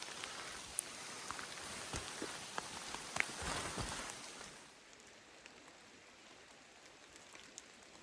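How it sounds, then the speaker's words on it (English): Rain falls steadily on the Appalachian Trail near a waterfall, a dense close patter with scattered sharper drips that softens to a quieter, even hiss after a few seconds, with no voices. "One last little bit of rain for old time's sake"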